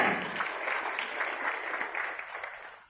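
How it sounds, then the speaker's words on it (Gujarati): An audience at a Gujarati film festival event applauds, a dense wash of clapping that is loud at the start and carries on steadily for a few seconds before easing off. "તાળી પાડો યાર જોરદાર."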